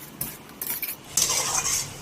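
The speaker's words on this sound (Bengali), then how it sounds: "এই পেস্টটা দিয়ে ভালো করে কষিয়ে নেব" A spoon scrapes and clinks against a pan while spice paste for chicken curry is stirred and fried, giving several short metallic knocks followed by a brighter sizzling scrape, close and alone.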